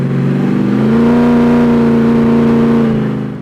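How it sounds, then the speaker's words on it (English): A Chrysler VC V8 Valiant engine, one-owner factory V8, revs up loudly and holds a steady, droning high rev for about two seconds, then eases back down. "this is my VC V8 Valiant"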